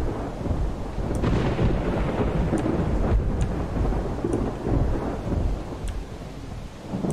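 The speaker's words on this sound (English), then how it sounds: "it's probably just the lightning and thunder." Steady heavy rain pours throughout while low thunder rumbles and rolls beneath it in the video game Project Zomboid, with no voices.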